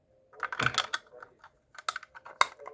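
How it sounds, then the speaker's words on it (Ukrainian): A cluster of quick plastic clicks from pressing the button on a battery-powered flashlight, several close taps in two short bursts, with no talking. "Натискаю кнопочку, да?"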